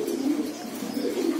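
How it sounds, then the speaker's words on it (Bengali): A pigeon straining to lay an egg gives a low, continuous cooing drone, close and steady for its short length. "মনে হইতেছে যে অসুস্থ একটা কবুতর বইসা আছে"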